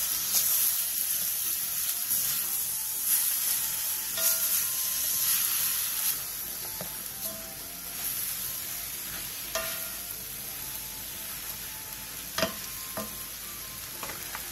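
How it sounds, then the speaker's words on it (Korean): Seasoned meat and vegetables stir-frying in a pan over medium heat, a steady bright sizzle and hiss with occasional scrapes and clacks of a spatula stirring, continuous and close. "그 다음 버무려 놓은 재료들을 넣고 5분간 중불에서 볶아주세요"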